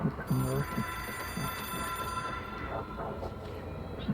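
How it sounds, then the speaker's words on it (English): Telephone ringing in the video game Control, a repeating electronic ring with steady bright tones, moderately loud over a game background hum, with no one speaking. "It is a phone. It's an object of power."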